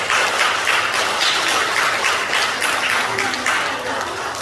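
Audience applause in a Korean lecture hall, sustained broadband clapping from a crowd that holds steady and fades slightly toward the end, with no talking over it.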